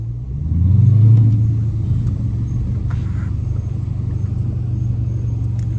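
A Dodge Challenger R/T engine driving at night, a steady low rumble that swells as it revs briefly early on, then settles into an even cruising drone, close and loud with no talk.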